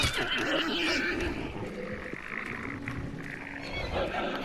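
A horse whinnies in a wavering, drawn-out neigh over a busy background of game ambience and faint voices in Hunt: Showdown.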